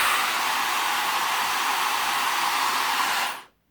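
A Dyson Supersonic hair dryer fitted with a diffuser runs as a steady, loud, even airflow whoosh for over three seconds, then cuts off abruptly.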